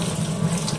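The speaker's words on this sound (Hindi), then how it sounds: "अब इसी में हम ठंडा पानी नल के नीचे जा करके ठंडे पानी से धो लेंगे" Cold water runs steadily from a kitchen tap over boiled noodles being rinsed, a continuous close splashing stream with no talk.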